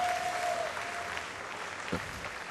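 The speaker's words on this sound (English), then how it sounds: "everybody, a big hand of applause for Naura" An audience at BlizzCon, a gaming convention event, applauds in a steady wash of clapping heard at a distance, fairly faint, with a brief louder patch near the end.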